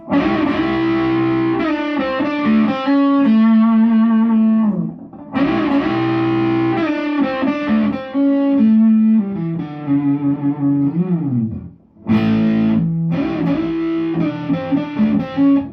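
A distorted electric guitar plays a blues lick with bends and wavering vibrato on held notes, landing on the major third, loud and close, pausing briefly twice between runs.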